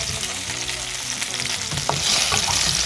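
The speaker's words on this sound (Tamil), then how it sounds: "இப்போ இது நல்லா வதங்கட்டும்" Brinjal sautéing in a pan for Tamil kathirikai ketti kuzhambu, a steady close sizzle with stirring scrapes and a brief clink, getting brighter toward the end, no talk.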